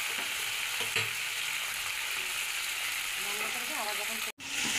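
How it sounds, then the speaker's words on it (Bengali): A fish head fries in hot oil beside pabda fish in a pan, giving a steady loud sizzle with brief crackles throughout and a short break near the end. "সেই মুড়োটা ভাজছি।"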